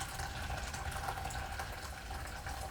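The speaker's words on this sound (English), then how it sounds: "We pour some boiling water in first." Boiling water pours from a kettle in a kitchen set up in a garage, a steady, soft splashing rush with no voices.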